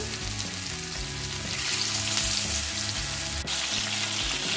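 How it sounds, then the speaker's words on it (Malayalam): Pieces of thick, fleshy fish fry in hot oil over a medium flame for a fish biryani, giving a steady, close crackling sizzle that carries on throughout. "ഇനി നമുക്ക് ഈ മീനൊന്ന് ഫ്രൈ ചെയ്തെടുക്കാം. അതിനായി ചൂടായ എണ്ണയിലേക്ക് ഇട്ട് കൊടുക്കാം."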